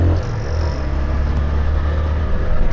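A Yamaha FZS25 motorcycle engine runs with a steady, low rumble continuously without a break, close and fairly loud, with no voices over it.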